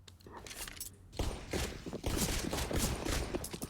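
Rifle gunfire during a competitive CS:GO semi-final match, rapid crackling bursts of shots that start quietly and swell into a dense sustained exchange of fire.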